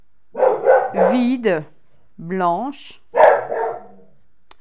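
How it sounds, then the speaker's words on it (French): A dog barks and yelps indoors in a few short bursts, overlapping someone speaking French nearby. "Excusez-moi pour le chien."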